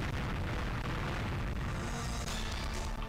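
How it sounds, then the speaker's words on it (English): An explosion in the GoldenEye video game, set in a silo level, produces a sustained, muffled, rumbling blast roar. It is fairly quiet and continuous, with no talking. "Oh damn! Explosion! Run away!"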